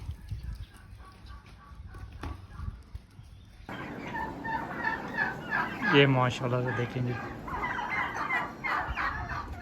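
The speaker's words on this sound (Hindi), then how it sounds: "सारे टर्की बर्ड," Turkeys on a farm gobble and cluck in a busy flock, the calls rising loudly after a quiet start, close by, with someone talking over them.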